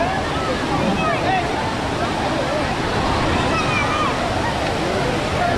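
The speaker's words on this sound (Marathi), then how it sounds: "तिकडे बघा, तिकडे जो तिकडे पाहू शकता तुम्ही एकदम फेसाळलेलं पाणी आहे." Waterfall in flood during rain, with foaming water roaring in a loud, dense, continuous rush, while a person talks over it throughout.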